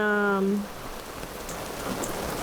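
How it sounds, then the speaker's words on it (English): Heavy rain lashes a sailboat at anchor during Hurricane Ida. The steady, dense hiss of downpour and wind follows a brief tonal whine at the very start. "the wind is something fierce, and I think the rain is way worse than"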